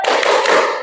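Children clapping hands in the Tepuk anak soleh chant, one short, loud burst of claps heard close up.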